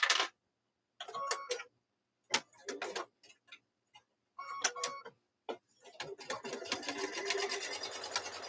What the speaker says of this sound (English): So let me stitch across and then we'll look at it.